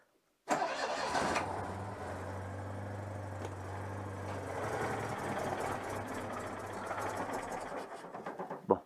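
A Citroën 2CV engine starting with the choke pulled, catching quickly and settling into a steady, loud, rough idle with a throbbing low rumble that runs on until the engine cuts at the end.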